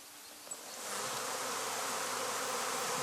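Honey bees swarm around their hives in a dense, steady buzz that swells in over the first second, then holds loud and continuous with no voices.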